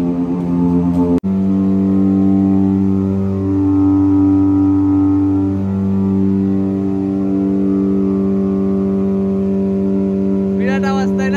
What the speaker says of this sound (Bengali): তো তোমাদের সুপার বাইকটাকে দেখাচ্ছি